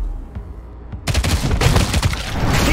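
Rapid bursts of gunfire in the video game Showgunners erupt after a quiet second, dense and loud, continuing as a sustained volley of shots.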